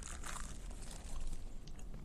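A crunchy squid ink macaron is bitten and chewed up close, giving a dense, steady crackling crunch with no talking.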